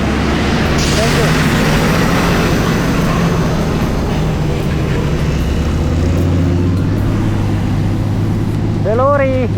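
A lorry rumbles past on a muddy track in northern Laos, a loud sustained low engine drone with a rising whine near the end, heard over wind and some speech.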